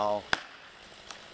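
A tree cracks as a machine pushes it over in a yard: one sharp, loud snap and a fainter crack about a second later, both after a brief voice at the start.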